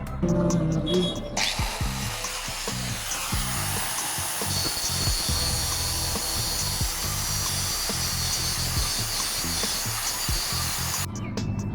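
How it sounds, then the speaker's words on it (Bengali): A brake dice plate from an auto rickshaw is rubbed down by hand, giving a continuous scraping, grinding rasp that runs steadily and close for most of the stretch. "এটাকে আমি এখন ঘষে নেব"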